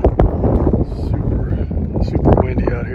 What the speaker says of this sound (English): Super windy out here.